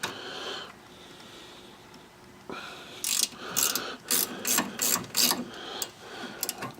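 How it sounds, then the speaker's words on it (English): A 10mm ratchet wrench clicks in short, rapid bursts while turning a bolt on car rear brakes, about half a dozen close, crisp ratcheting strokes after a quieter opening. "I got my 10mm ratchet wrench here."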